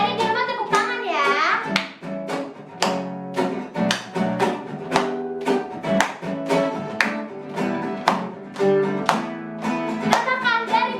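Children at a church children's worship service clap hands in rhythm along with a sung song, sharp regular claps punctuating the melody and voices throughout.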